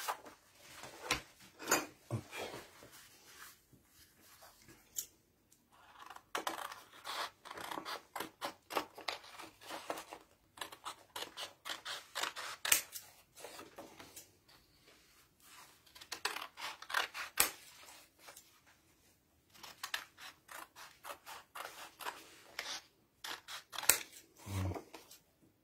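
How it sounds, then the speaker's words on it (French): A paper page from a travel sketchbook snipped with scissors: repeated crisp cutting snips in irregular bursts with short pauses, close and clear, plus a brief rustle near the end. "Je vais déchirer cette page et la découper."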